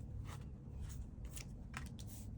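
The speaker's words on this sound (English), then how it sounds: "Today I'm shuffling the messages from the Mermaids deck to pick 3 significator cards for a pick a card." A Mermaids oracle card deck shuffled by hand, soft papery riffles and swishes in several quick bursts over a low steady background hum, close and fairly quiet, no talking.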